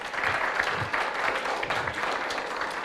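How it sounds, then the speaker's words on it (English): A live audience claps steadily for student presenters at a school showcase event, a continuous dense applause lasting the whole moment without speech. "Can we have a huge round of applause for them?"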